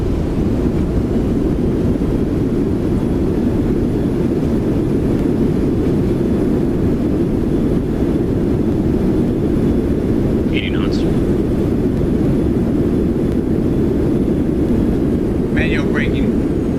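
A Boeing 737-700 landing and braking hard into Burbank in X-Plane 12 produces a loud, continuous low roar and rumble of engines and rollout, with brief synthetic cockpit callouts over it.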